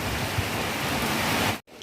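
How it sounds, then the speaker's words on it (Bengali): Heavy monsoon rain pouring down, a loud dense broadband hiss that holds steady, then cuts off abruptly near the end before a quieter tail resumes. "ঝমঝম করে বৃষ্টি হচ্ছে একদম"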